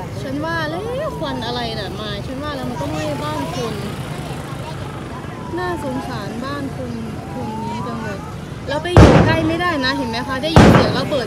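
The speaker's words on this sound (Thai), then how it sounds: "ได้ยินเสียงระเบิดอยู่ตลอดเวลา" A person talks steadily over background noise during a house fire in Maha Sarakham, Thailand, until two sharp, loud explosive bangs ring out a couple of seconds apart.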